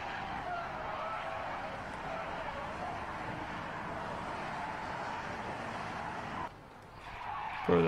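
A black Nissan Sunny drifts with a long, steady tire skid that holds loud and continuous, then briefly dips and surges again near the end.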